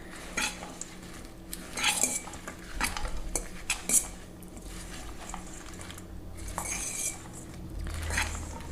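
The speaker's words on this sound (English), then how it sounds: "I'm actually going to use my salad fork to toss the ingredients around" Salad fork clinking and scraping against a bowl while tossing a citrus salad with dressing, a run of irregular light taps and stirring rustles at close range.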